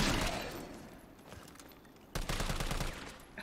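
Gunfire rings out in the video game Resident Evil 3, with a loud opening volley followed by a quieter stretch and then another burst of rapid, echoing shots.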